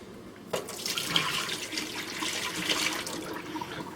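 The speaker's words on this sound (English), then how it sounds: "we're going to dump the hot water out of here" Hot water suddenly starts pouring out of a thermos and splashes steadily into a sink or container for a few seconds, fairly close.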